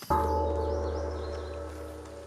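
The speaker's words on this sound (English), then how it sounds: "No sooner have you rung the ornate bell" An ornate bell struck once in the fantasy game Divinity: Original Sin 2, a sudden clang followed by a long, slowly fading ringing tone over faint background ambience.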